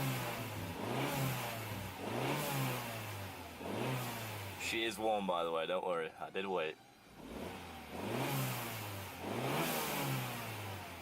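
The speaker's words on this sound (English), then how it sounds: "I'm going to show you the blow off valve if you can even hear it" A turbocharged car engine revs in repeated surges, each swelling and falling back, with a turbo blow-off valve release, partly under close talking.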